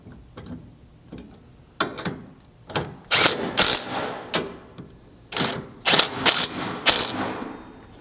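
Bracket bolts being tightened with a ratchet during a rear strike bumper install on a Toyota Tundra, heard as repeated bursts of loud, close metallic ratcheting clicks with short pauses between, no talking.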